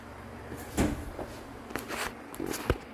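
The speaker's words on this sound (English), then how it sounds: "Let's get the door closed, get some heat going" A powder coating oven door swings shut in a workshop, giving a few short knocks and a sliding thud, with a louder closing impact near the end amid faint background hum.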